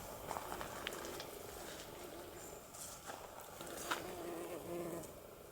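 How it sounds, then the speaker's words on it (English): Faint buzzing of bees drifts around in a quiet outdoor setting, soft and continuous with no talking. "Lots of bees."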